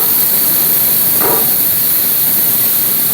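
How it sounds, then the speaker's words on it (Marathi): A pressure cooker vents steam while tomato soup cooks inside, giving a loud, constant hiss with one short stronger burst partway through. "टाक टाक टाक टाक टाक वाजणे शिट्टी व्हायला लागली बघ टमाटोची सॉसची"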